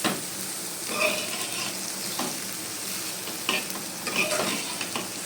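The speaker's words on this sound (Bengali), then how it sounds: "তো সয়াবিনগুলো আমি একটু নেড়ে নেব প্রথমে" Soya chunks fry in a pan while a spatula stirs them, making a steady sizzle broken by several scraping strokes, close and fairly clear, with no talking.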